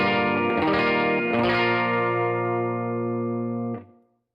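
A clean electric guitar chord is strummed through an amp with all effects off, then a second strum rings out and sustains before being muted; warm tone with a slight edge, near breakup.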